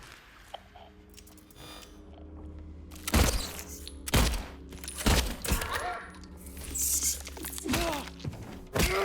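Heavy gunshots from the Silent Hill 2 (2024) remake, about six booming reports spaced a second or so apart over a low, droning game ambience.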